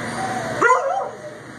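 A big, mellow dog at an animal shelter gives a single short bark or yip midway, close and fairly loud, over a quiet room hum.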